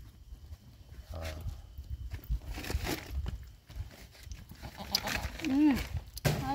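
A goat bleats near the end while being milked, one wavering call followed by a short second cry, with people talking in the background throughout.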